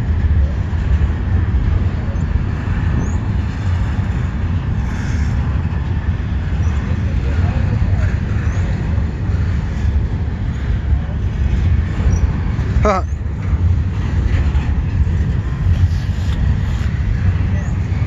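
CSX double-stack intermodal freight train rolling past, a continuous heavy low rumble and rattle of wagons heard from trackside, with a brief squeal partway through and no clear talk.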